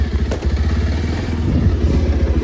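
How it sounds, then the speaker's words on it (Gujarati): A motorbike engine, just started, runs at a steady idle with a close, rhythmic low putter and light mechanical clatter, and no voices. "તો ફાઇનલી બાઇક તો સ્ટાર્ટ થઈ ગઈ"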